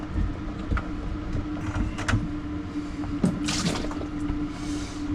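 Water drains from a camper's sink trap into a bucket underneath, giving a steady trickling and dripping with a few brighter splashes and knocks, close by, with no talk.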